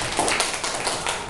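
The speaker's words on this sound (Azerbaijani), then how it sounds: "alqışlar Fatiməyə. Alqışlar uşaqlar." Children clapping for the winner of a classroom geography quiz game, a dense burst of many small hands applauding close by, steady throughout with no talk.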